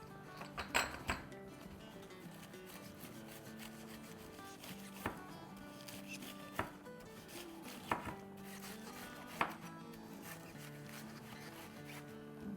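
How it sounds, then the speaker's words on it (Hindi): Cabbage is finely chopped with a knife on a cutting board for soup, sounding as a close, fast series of soft thuds and scraping cuts, with a few sharper knocks standing out at irregular intervals. "चलें अब थोड़ी सी बंद गोभी काट लेते हैं। बंद गोभी बहुत बारीक सी काटेंगे।"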